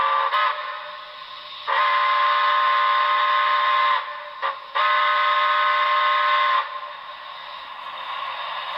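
A Broadway Limited HO-scale model of the NYC Commodore Vanderbilt Hudson steam locomotive sounds its long whistle: a short toot, then two sustained, loud, close-up steam-whistle blasts separated by a brief gap, followed by quieter background hum.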